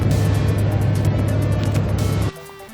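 A Ford 7.3 Powerstroke diesel truck engine under throttle: a loud, steady low rumble that holds for about two seconds, then abruptly drops to a quieter idle.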